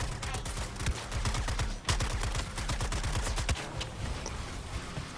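Gunfire in the video game Suicide Squad Kill the Justice League, rapid sustained automatic bursts with short pauses between strings of shots, moderately loud and steady throughout.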